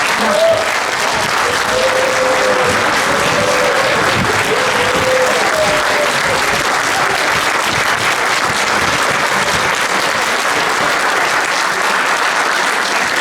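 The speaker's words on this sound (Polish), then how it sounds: "Absolutnie zasłużone brawa" Sustained applause from a seniors' gathering at a sports rally in Gdańsk, a dense, steady wash of clapping lasting throughout, with a voice briefly speaking over it near the start.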